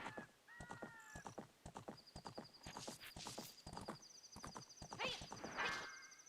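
A horse's hooves clip-clop at a brisk, regular pace in Zelda: Ocarina of Time, with a whinny and game chimes layered over the steady hoofbeats.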